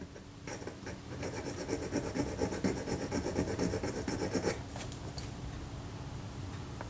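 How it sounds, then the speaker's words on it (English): A small file cuts slots into tiny screws from a Kodak Retinette IIA camera, a close, rapid scraping rasp of steady strokes that stops abruptly, leaving quiet room tone. "I was able to file those slots into the screws."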